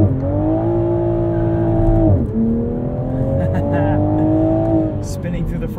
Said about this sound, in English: Let's see what type of acceleration we get.